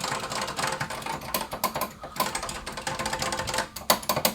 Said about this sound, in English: Then we get to one of my favorite keyboards of all time